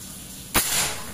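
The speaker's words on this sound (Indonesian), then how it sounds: "Kita tembak dulu batu bata yang sebelah kiri." A folding AK air rifle with a 60 cm Monel OD27 barrel, charged to 4000 PSI, fires at a brick and shatters it: one sharp, close crack followed by a short, fading burst of noise.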